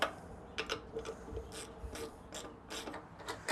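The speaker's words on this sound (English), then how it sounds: "unscrew the petcock. It's just 2 simple 10mm bolts. So unscrew that one." A ratchet wrench unscrews the 10mm bolts of the fuel tank petcock on a Suzuki DRZ400 motorcycle, giving a close, quiet series of rapid clicking ratchet bursts in an irregular rhythm, with no talk.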